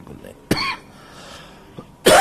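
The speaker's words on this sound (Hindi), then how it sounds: "इससे ही तो खांसी आ जी रही है।" A man coughs, one sharp cough followed by a second louder one a moment later, close to the microphone during a television interview, with a faint murmur of speech in between.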